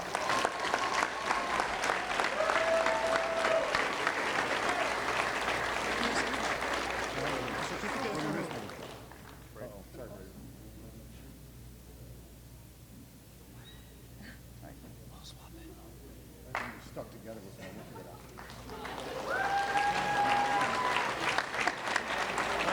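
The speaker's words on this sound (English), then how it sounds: "So big round of applause for them." An audience applauds cadets at an ROTC awards ceremony, loud sustained clapping that fades into a quiet stretch with faint murmurs and a few stray claps, then swells into a second round of applause.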